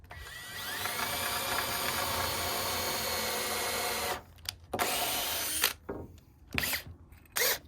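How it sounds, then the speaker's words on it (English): Cordless drill pre-drilling holes in wooden rafter boards for a patio cover, a steady continuous whine for about four seconds, then several short separate bursts with pauses between. "So for each one of these, I've been pre-drilling these holes, just lining it up and pre-drilling."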